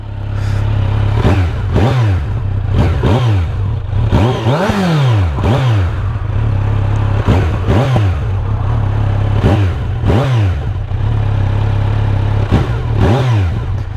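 A Kawasaki Z900 A2 motorcycle engine revs repeatedly while idling in place, recorded near the exhaust, loud and close, with sharp throttle blips rising and falling over a steady rumbling idle.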